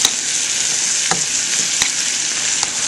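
Butter sizzling as it melts into very hot caramelised sugar coating almonds, a steady close-up frying hiss throughout with a few faint clicks of stirring.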